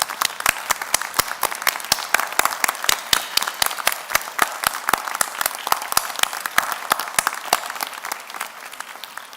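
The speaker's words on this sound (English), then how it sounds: "we'll give them a round of applause" A graduation audience at Ulster University's Magee campus in Derry/Londonderry applauds steadily, with a dense wash of clapping and sharp, evenly spaced claps standing out close by throughout.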